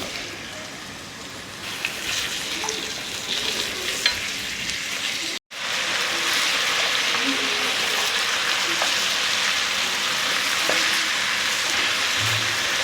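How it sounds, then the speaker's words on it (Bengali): Mutton pieces fry in hot oil with a loud, continuous sizzle and crackle, briefly cut off by a pause, then resuming dense and steady with occasional stirring scrapes. "এটা একটু ভাজা ভাজা করে নেব।"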